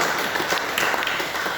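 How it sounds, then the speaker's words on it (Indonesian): Applause from an audience at a health insurance oversight board meeting, a brief steady wash of clapping with no clear gaps. "Tepuk tangan buat saya"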